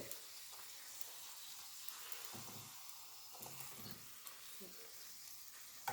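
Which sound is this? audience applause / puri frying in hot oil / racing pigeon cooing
puri frying in hot oil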